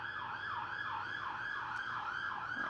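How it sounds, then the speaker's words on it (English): An emergency vehicle siren wails through a residential neighborhood, a steady rising-and-falling cycle repeating about every half second, faint and distant with no talk. "Not sure if you're hearing the sirens in my neighborhood, but sometimes those are present."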